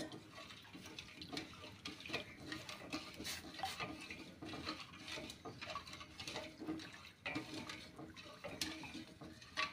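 A spoon stirs sugar into milk in a pot for vermicelli kheer, with faint repeated clinks and scrapes and a soft watery swirl, all quiet and close.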